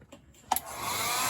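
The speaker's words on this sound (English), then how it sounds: "You can use a hairdryer to melt some of the ice" Hairdryer switched on to melt ice buildup in a Samsung fridge: a click, then a steady rushing blower whoosh that rises and holds, close and fairly loud.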